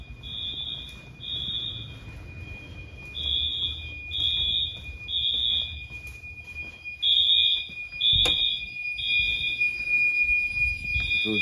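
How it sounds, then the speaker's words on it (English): A loud home security alarm sounds in repeated high-pitched electronic bursts, pulsing in an irregular rhythm over a steady tone, with a sharp click partway through and no talking. "It's the loudest alarm I do have"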